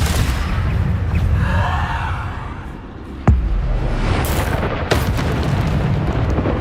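A Bombarda blasting spell goes off in the Hogwarts Legacy video game: a low rumbling boom swells and fades, then a sharp impact bursts out, followed by another hit amid a continuous roar of game noise.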